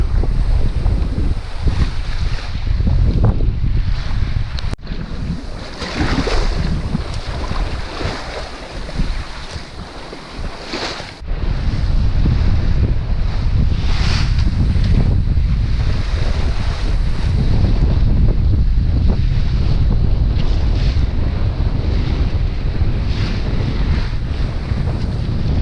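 Strong wind roars across the microphone aboard a sailboat at sea between Homer and Kodiak, gusts near 30 knots, with waves washing against the hull; the blast is loud and continuous, easing briefly midway before surging again.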